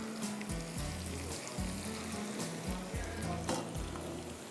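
Whole red chillies, mustard seeds, cumin, crushed garlic and curry leaves sizzle in hot ghee, a steady loud frying hiss with bursts of crackle, under a low looping music bed throughout.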